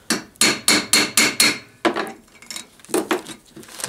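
A hammer strikes a grommet-setting tool on a tarp, five quick sharp whacks in a steady rhythm, then a lone blow and a few lighter taps, close and loud.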